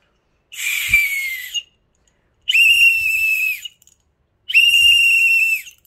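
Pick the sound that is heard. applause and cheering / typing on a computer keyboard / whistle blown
whistle blown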